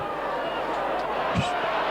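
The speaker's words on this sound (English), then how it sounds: "And the crowd groan as Wigan seeming a little bit mesmerised." A rugby league stadium crowd at a Wigan versus Eagles match lets out a broad, continuous groan that swells to a brief low thump, under constant commentary.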